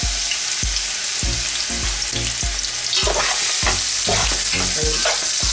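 Onions fry on high heat in hot oil for beef biryani, a loud, steady close sizzle broken by regular scraping thumps of stirring roughly every half second, with no voices.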